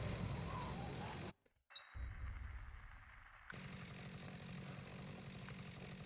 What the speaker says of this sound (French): préparez-vous à avoir le bruit de la mini-tronçonneuse jusqu'à la fin du jeu